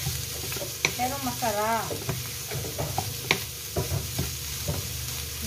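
Cabbage sautéing in a pan at home, a steady soft sizzle and frying hiss with occasional stirring clicks, under a brief voice speaking.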